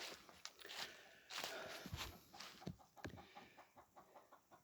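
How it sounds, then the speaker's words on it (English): Behind a house, a hen clucks in short, repeated bursts at close range, mixed with footsteps on the ground nearby. "That's definitely a hen up there"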